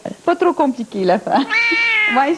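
A pet cat named Chanel meows indoors while someone talks in French, with a long drawn-out meow rising clearly through the middle and short mews around it, all close and loud, interleaved with her speech.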